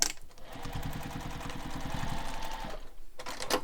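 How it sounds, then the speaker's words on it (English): A sewing machine runs in a steady, close rhythmic stitching burst, going back over the strap anchors of an Emmaline Manhattan bag, then stops briefly before starting again, with no talking. "I'm going to stitch back over that area just for some extra strength there"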